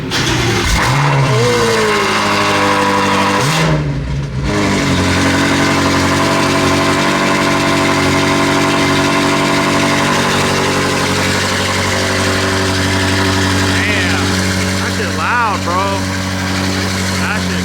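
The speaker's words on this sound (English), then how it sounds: "F90 M5 catalyst downpipes." A loud BMW M5 (F90) with catalyst downpipes idles with a deep, rumbling exhaust, briefly revving near the start, while people talk nearby.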